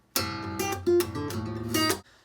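Opening section of a riff played on acoustic guitar, a short run of plucked notes with a percussive thumb-slap rhythm, close and clear, with no talking.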